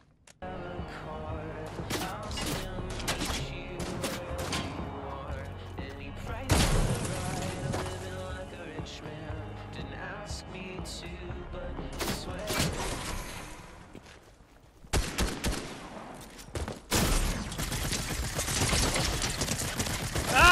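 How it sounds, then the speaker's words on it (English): Shotgun blasts in the Fortnite video game, several sharp loud bangs scattered across the stretch amid busy game effects and a burst of rapid shots near the end, with a person talking at times. "Oh my God, I missed my shotgun shot."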